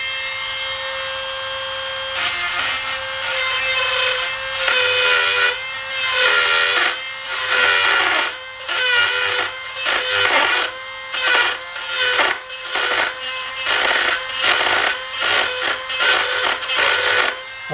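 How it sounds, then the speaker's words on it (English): Power grinding on the bruised steel shaft of a Bridgeport milling machine, a loud broadband whine cut into repeated short bursts with brief pauses between passes, alone without talk. "So what we'll do here is we'll just grind that off a bit."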